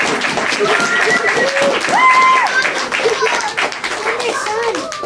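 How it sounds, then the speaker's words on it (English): Audience applause at a book release party, steady clapping mixed with excited voices and high whoops or cheers throughout, fairly loud and close, with a short swell near the middle. "Big round of applause"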